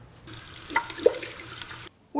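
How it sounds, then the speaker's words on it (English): Half a cup of cold water poured into a pot of wontons in a home kitchen, a short steady splashing pour lasting under two seconds, close and fairly loud, with no talk. "we're going to add half a cup of cold water"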